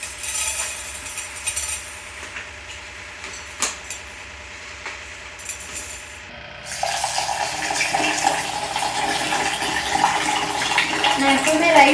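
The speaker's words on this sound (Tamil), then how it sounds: "நான் எப்பவுமே ரைஸை ஆரோ வாட்டரில் தான் வாஷ் பண்ணுவேன்" Rice is washed in RO water, with running water splashing and sloshing that grows louder and brighter halfway through, close and continuous over a low background hum.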